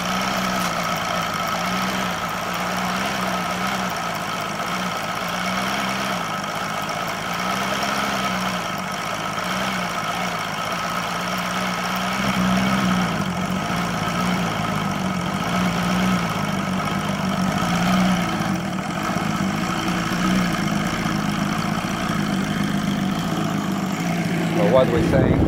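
An OS Sirius 7 FR7-420 radial model engine with a CH Ignitions glow CDI conversion idles steadily and close by, with a low, even drone that swells slightly louder partway through.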